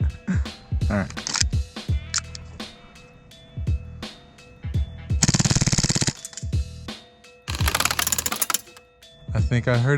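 Full-auto airsoft gunfire rattles out in several fast bursts, each lasting about a second. Sharp isolated clicks and low handling knocks are heard between the bursts.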